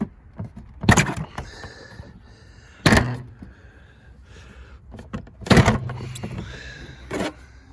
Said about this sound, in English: you pull this little 500 E cover off